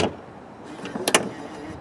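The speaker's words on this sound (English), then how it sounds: "In the DB11, to shut the hood, you start by shutting the hood like normal and then it latches itself." An Aston Martin DB11 hood is lowered and then latches itself, a soft thud followed by a couple of sharp mechanical clicks and a faint motor whir, close and alone.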